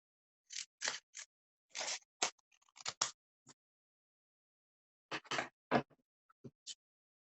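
Scissors snipping through a length of string and paper at close range: two bursts of sharp, crisp cuts separated by a pause, loud against an otherwise silent background.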